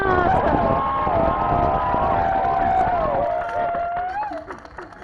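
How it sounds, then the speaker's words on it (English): An audience at the close of the stage play 12 More Angry Men cheers and claps, with sustained whooping voices over dense applause that thins out toward the end. "Let's give another round of applause for 12 More Angry Men"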